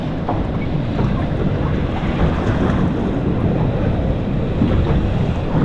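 Ocean swells break around a small boat heading home from a remote camping trip, a continuous rushing wash of surf mixed with heavy wind buffeting the microphone, loud and steady throughout.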